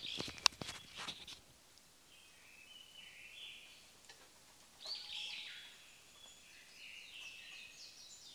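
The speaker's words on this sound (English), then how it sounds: "One thing that is really important here and deserves a lot of attention is the sound of birds" Birds sing in the Boseong green tea fields of South Korea: scattered high chirps and short calls, faint and somewhat distant, over quiet open-air ambience.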